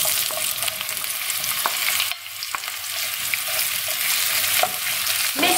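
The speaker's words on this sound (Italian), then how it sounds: "Pronto il nostro olio, possiamo andare ad aggiungere le zucchine." Zucchini frying in hot olive oil with garlic, a loud continuous crackling sizzle with scattered pops and a brief dip as the pieces settle, heard alone.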